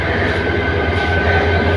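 A train at platform 3 of Kamalapur railway station in Dhaka gives a loud, steady low rumble with a faint mechanical hum. No one speaks.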